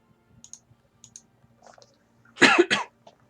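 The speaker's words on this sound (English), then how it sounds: "Sorry about that. Coughed again." Two sharp coughs close to the microphone, preceded by faint clicking and light taps in an otherwise quiet room.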